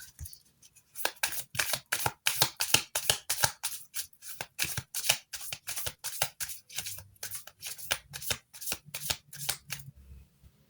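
Tarot cards riffle-shuffled over and over, a long run of quick crisp papery flutters in steady bursts, close and fairly loud with no voices.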